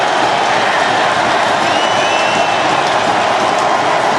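A 65,000-plus football stadium crowd at an NFL game roaring loudly and continuously as the noise builds on third down, a dense, far-spread wash of cheering with no pauses.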